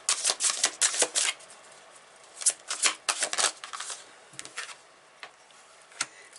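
Tarot cards shuffled by hand in a rapid series of crisp, papery riffles and flicks, coming in bursts with short pauses between them, close and fairly quiet with no talking.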